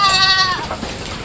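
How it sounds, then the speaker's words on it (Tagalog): Goats on a goat farm bleat nearby, one clear wavering cry that trails off into quieter farmyard background. "Gutom na gutom ang mga kambing."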